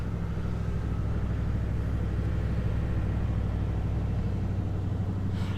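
Pickup truck engine idling steadily after a push-button start, a low, even rumble heard close throughout with no voices.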